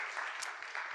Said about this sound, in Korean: 1분 전인데 박수 안 해주십니까?